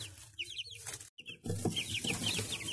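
Backyard chickens cluck in quick repeated bursts, close and moderately loud, with soft scuffling and background noise between the calls.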